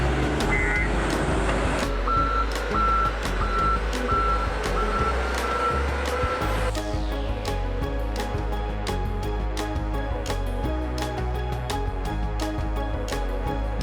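A Komatsu WA900-8R wheel loader working in a blasted rock quarry sounds its reversing alarm, a steady run of loud, evenly spaced beeps over a deep, continuous diesel rumble.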